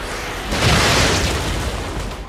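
A grenade goes off in The Evil Within, a loud close boom that swells after a brief lead-in and then rumbles away over the next couple of seconds.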